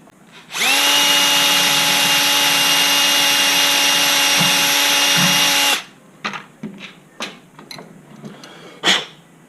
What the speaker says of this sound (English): And I'll drill that out, and I'm going to feed my power wire through there